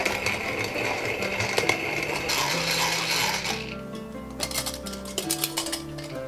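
Whole peppercorns and salt flakes cracked in a hand mill, heard as close, fast ratcheting clicks and gritty crunching over a steady background hum.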